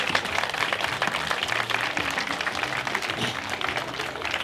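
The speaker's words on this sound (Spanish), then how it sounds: "Aplausos si quieras, pues señor." Audience applauding at a Spanish-language comedy show, a continuous spread of clapping at moderate level with a low background murmur and hum underneath, lasting the whole stretch.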